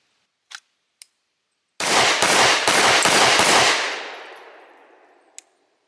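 Rapid string of sharp, loud pistol shots from a Staccato handgun, about six or seven in quick succession outdoors, with a long echoing decay; a couple of small clicks before and a faint tap after.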